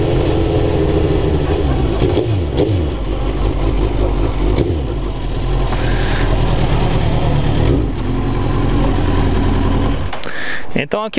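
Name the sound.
motorcycle engine at low revs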